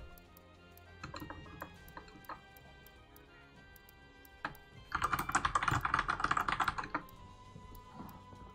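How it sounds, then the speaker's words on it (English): Computer keyboard typing at a gaming setup. A few scattered key clicks lead into a fast, close two-second burst of clattering keystrokes, then it quiets again, with no talking. "That's some typing."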